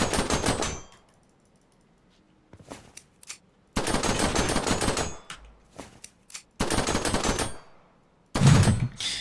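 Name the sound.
pistol gunfire in a video game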